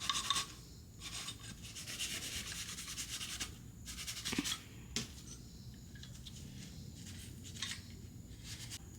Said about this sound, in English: I'm gonna like wet sand it with the Scotch-Brite, just so it's nice and roughened up and the paint just adheres to it better